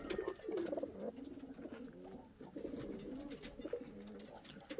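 Indian fantail pigeons coo softly nearby in a coop, a few low rolling calls repeating over a quiet background with no talking.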